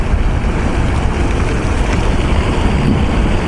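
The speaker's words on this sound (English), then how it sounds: "Wind's kind of blowing everything this way" Wind gusting over a Texas pond blows hard against the microphone, a loud, constant low rumble and roar with no break for the whole stretch.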